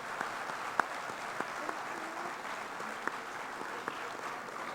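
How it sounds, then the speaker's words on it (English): Sustained audience applause fills a Rotary District 7030 conference plenary session in Trinidad, an even wash of many hands clapping at moderate distance with a few sharper claps standing out and no talking. "So please join me in giving one more big round of applause for Rotary International Director, Uncle Pat"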